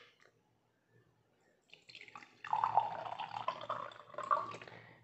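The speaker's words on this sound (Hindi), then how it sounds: "ये मैंने पानी ले लिया गिलास में" Drinking water poured into a glass gives a steady, splashy trickle that starts after a short quiet lead-in and runs for a few seconds close by.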